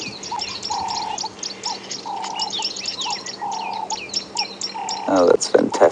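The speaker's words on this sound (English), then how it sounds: "But you can hear a few of those prinias in there." Tawny-flanked prinias calling on a morning safari drive at Djuma Game Reserve, a busy layer of repeated high chirps over a steady mid-pitched call and background hum, with a brief voice near the end.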